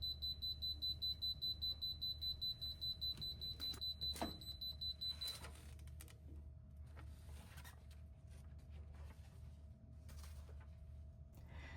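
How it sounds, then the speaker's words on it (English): A VEVOR hat heat press timer beeps rapidly for several seconds, then stops, leaving a low mechanical hum and faint clicks in a quiet room. "we will hear a little beep at the end, and then we'll know that our design is ready"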